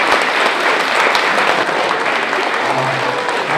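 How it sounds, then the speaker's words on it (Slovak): Audience applause at a folk band concert, a dense, steady wash of many hands clapping that stays loud and even from start to finish. "veľký potlesk mamičke"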